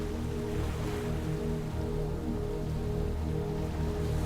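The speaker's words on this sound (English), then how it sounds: "Maybe you can hear the waves lapping against the shore" Steady wash of waves lapping at a beach shore, a continuous soft broadband surf rolling on without pause, with a low hum of tones beneath it and no voices.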